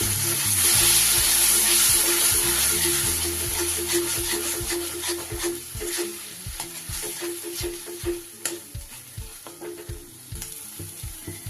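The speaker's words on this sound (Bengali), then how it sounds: "খুব ভালো করে কষে নেব। একটু সামান্য মশলার জলটা দিয়ে দিচ্ছি।" Spices sautéing in hot oil for Bengali-style doi katla as a little spice water goes in, a loud hissing sizzle that gradually settles into softer crackling, with spoon scrapes and taps against the pan.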